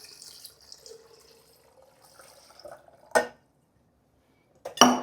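Soaked almonds rinsed under a running tap in a sink, starting with soft trickling, then two sharp, loud splashing bursts of water close by, separated by near silence.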